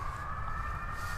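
An ambulance siren passing on the road holds a steady high tone, moderately distant, heard alone over faint background rumble in a brief stretch.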